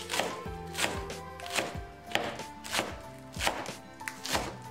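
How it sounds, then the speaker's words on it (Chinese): A knife chops scallions on a cutting board, with several distinct sharp strikes at an irregular rhythm that stand out clearly against a quiet kitchen background. "多准备几颗小葱切碎"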